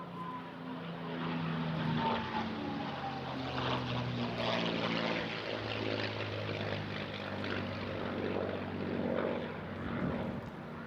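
A Griffon-engined Spitfire flies past at an airshow, its piston engine a steady, loud propeller drone that holds for the whole stretch without fading away.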